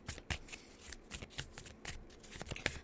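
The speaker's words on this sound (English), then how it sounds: "These cards feel so nice to shuffle." A deck of smooth playing cards is shuffled, giving quick riffling flutters and soft slaps in an uneven rhythm, close and faint, with no talking.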